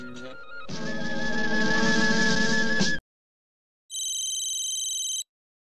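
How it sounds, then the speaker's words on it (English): A cartoon telephone rings: a loud, buzzing ring lasts a few seconds, breaks off into silence, then a second, cleaner ringing burst follows, with no one speaking. "I better give him a phone call to see if the thing works properly."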